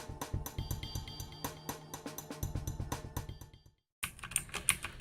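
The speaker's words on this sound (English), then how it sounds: "We'll take a closer look at some of the sounds that you get off typing in a minute." Keys on a DREVO Gramr 84-key backlit mechanical keyboard with clone blue switches clack in quick, crisp bursts of rapid typing, close and fairly quiet, pausing briefly before resuming.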